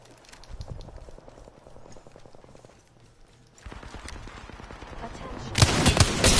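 Rapid gunfire in an online battle royale shooter, bursts and scattered shots building toward a loud close volley at the end, with game announcer voice and ambient noise underneath.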